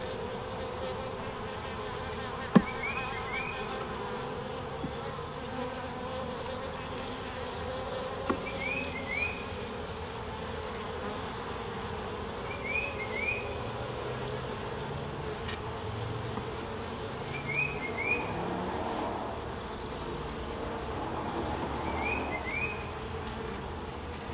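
Bees from a new hive being inspected give off a steady, close buzzing hum throughout, with a few faint clicks and handling noises.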